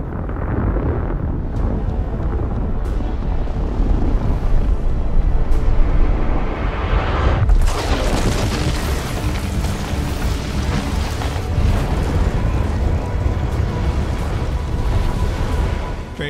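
Cinematic impact of the planet Theia colliding with Earth: a continuous deep, loud rumbling roar that swells and then breaks into a sudden crashing burst partway through, followed by a sustained heavy roar with crackling debris.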